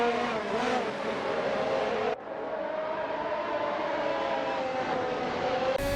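Simulated Formula 1 race cars lapping Circuit of the Americas in an AI-driven 2022 racing game, a steady loud high-pitched engine whine with pitch shifts as cars pass, a brief drop partway through, no talk.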